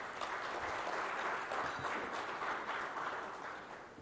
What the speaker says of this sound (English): So let's give them a warm round of applause for that.